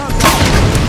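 Fuel rod cannon firing in Halo 5: Guardians multiplayer, a single loud, heavy blast with a booming, broadband burst that fills the short moment and rings out briefly.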